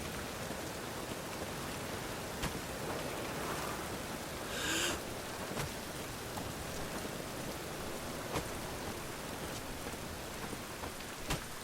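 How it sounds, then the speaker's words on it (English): Steady rain in The Witcher 3 patters continuously with a dense, hissing wash and occasional louder drops, no voices present. "You call this rain? You've clearly not seen true precipitation."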